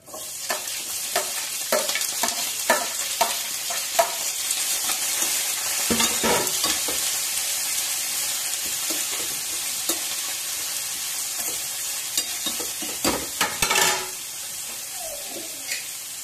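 Onions fry with a little salt in a pan, giving a steady sizzle that runs the whole time, with frequent clattering stirs of the spoon and a louder burst of scraping near the end.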